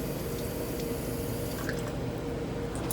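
Running water rinses iodine off a Gram stain slide with a steady, soft wash of flow that thins slightly toward the end, close by and unbroken.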